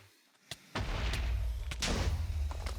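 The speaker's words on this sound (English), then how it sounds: "Explosion." An explosion spell from the video game Avatar: Master of Elements goes off with a sharp crack followed by a sustained roaring blast, punctuated by a couple more loud bursts.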